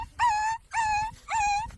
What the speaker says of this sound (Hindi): पिल्ला आवाज कैसे निकालत